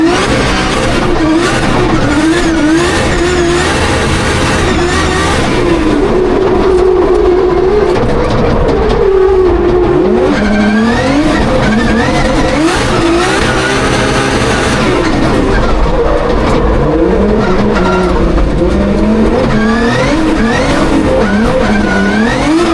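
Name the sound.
drift car driving at Goodwood Motor Circuit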